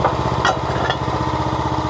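A Wolfe Ridge 28C log splitter engine runs steadily at close range, a loud continuous throbbing drone with a couple of faint higher clatters near the start and no voices.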